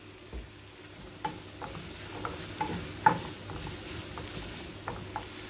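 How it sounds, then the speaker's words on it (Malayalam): Onions and curry leaves sautéing in a pan over a medium flame, a soft steady sizzle broken by occasional sharp ladle scrapes and taps, close and fairly quiet. "മീഡിയം ഫ്ലെയിമിലിട്ടിട്ട് ഒന്ന് വാട്ടിയെടുക്കുക"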